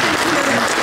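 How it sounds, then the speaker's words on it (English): Audience applause at an award gala honoring community service, a dense, steady wash of clapping that fills the whole short moment at close range, with a voice speaking over it. "let's give them a round of applause"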